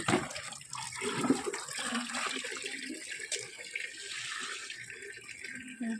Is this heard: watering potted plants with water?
yes